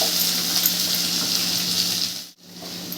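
Tomato and onion frying together in a pan for a dhaba-style egg masala, a steady close sizzle with a brief dip near the end, no talking.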